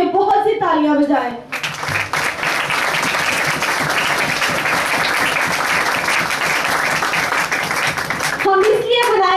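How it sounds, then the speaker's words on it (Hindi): A congregation at a spiritual gathering bursts into loud, sustained clapping that holds for several seconds, with a voice speaking just before it starts and again as it fades. "उसके नाम के जलाल के लिए बहुत सी तालियां बजाएं"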